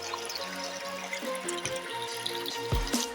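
Flowing water of a salty spring stream in a village forest where someone is bathing, steady trickling and splashing with a few louder splashes near the end, no talking.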